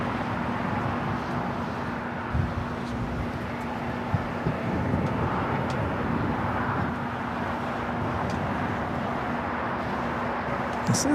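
Delta 767 airliner at LAX, a distant low rumble of jet engines over a steady hum, with faint voices and scattered light knocks in the background.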